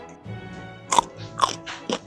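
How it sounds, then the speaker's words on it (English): Crunchy radish, cucumber and kimchi are bitten and chewed close up, with a few loud crisp crunches in quick succession over a quiet background. "The crunchy radish, cucumber and kimchi made the dish even more refreshing."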